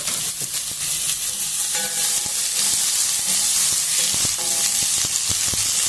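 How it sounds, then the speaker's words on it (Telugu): Carrot pieces, peas and other vegetables frying in a pan for palak rice, with a loud steady sizzle and hiss and light clinks of stirring throughout. "అన్నీ కొద్దిసేపు వేగనిద్దాము"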